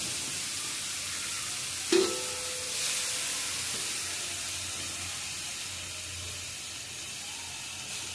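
Carrots sauté in hot ghee in a pan for gajar halva, giving a steady broadband sizzle throughout, with a brief clink of a utensil early on and a slight swell in the frying hiss shortly after.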